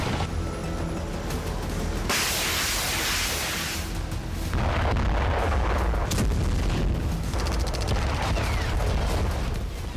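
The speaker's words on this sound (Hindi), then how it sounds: "रूस की धरती पर एक के बाद एक कई धमाके हुए।" Heavy booming blasts and rumbling bursts of explosions in a military attack on Orsk, Russia, follow one after another, loud and continuous, with sharp cracks breaking through the dense roar.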